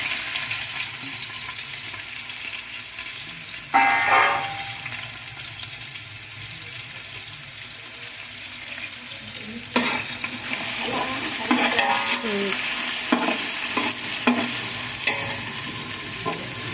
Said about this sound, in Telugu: ఇప్పుడు కట్ చేసి పెట్టుకున్న ఉల్లిపాయలు వేసుకోవాలండి.